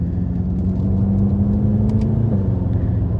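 Inside a BMW F10 M5 cruising back roads in comfort mode, a low, steady engine rumble and road whir fill the cabin, loud and even, with a slight easing of engine note past the midpoint.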